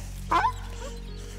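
A dog on a walk in a park gives one short, sharp whining yip up close, followed by a fainter, drawn-out whimper against quiet outdoor background.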